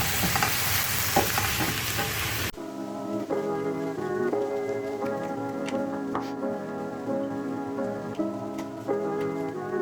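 Eggplant fries in oil, a continuous close crackling sizzle after a brief noisy opening, with soft ticking pops and occasional stirring knocks throughout and no voices.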